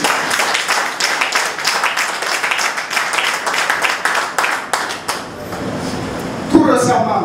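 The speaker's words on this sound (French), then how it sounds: "Ça s'applaudit." Audience applauding at a disability federation colloquium in Benin, steady dense clapping for several seconds that thins out near the end, with a voice briefly heard.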